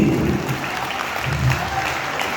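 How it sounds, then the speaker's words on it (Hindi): An audience at a business seminar in a hotel hall claps steadily and loudly, a dense continuous wash of applause with no voices on top. "मैं कहता हूँ ताली दिल से बजानी है हमें"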